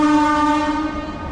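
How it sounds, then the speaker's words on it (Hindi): A train horn blares loud and steady as a train passes a railway station, one long sustained blast with a rumbling undertone that slowly fades, no talking. "आप ट्रेन निकल रही है तो हॉर्न भी सुनाई दे रहा होगा आपको।"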